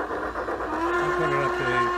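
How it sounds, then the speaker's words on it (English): A Piko model train with DCC digital sound runs steadily with a continuous mechanical hum, layered with sustained whistle-like tones that shift in pitch, close and fairly loud. "Beautiful sounding locomotive."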